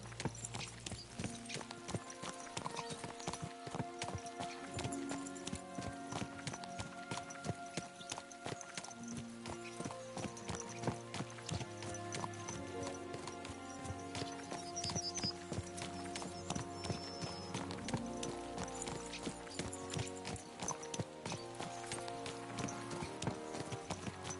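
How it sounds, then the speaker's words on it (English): Horses' hooves clip-clop steadily and continuously in the medieval video game Kingdom Come, a brisk rhythmic trot running under a loud, dense musical score throughout. "Let's really spur these horses on, eh?"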